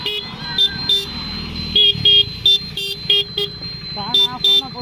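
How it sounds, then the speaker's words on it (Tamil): A car horn honks in repeated short double blasts, loud and close, against road and engine noise, with a voice speaking in Tamil underneath. "2 ஹார்ன் இதில் அடிச்சிருவோம், அடுத்து பார்த்தீங்கன்னா 2 ஹார்ன் அதில் அடிச்சிருவோம்"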